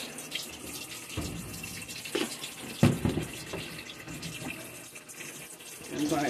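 Water runs steadily from a tap into a washtub holding sheets and detergent for laundry, a continuous splashing fill with brief louder surges and a faint voice at moments.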